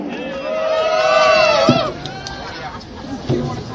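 An outdoor crowd at the Little Guyana Avenue naming ceremony cheers and whoops to welcome Assemblyman Khalil Anderson, a swelling burst of voices and shouts that peaks and then settles into lighter chatter.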